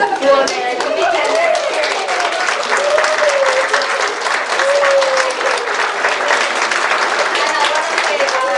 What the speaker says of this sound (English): let's please have a good applause for their commitment